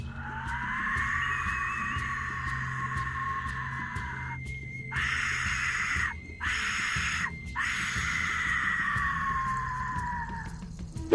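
An Aztec death whistle blown, piercing, wailing shrieks like a human scream, in several long bursts with short gaps, over a low rumbling drone.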